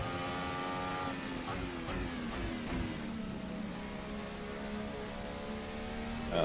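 A Formula Hybrid race car's gas engine in the Assetto Corsa racing game drones steadily under load, its pitch sliding through gear changes, with a rise in volume at the very end.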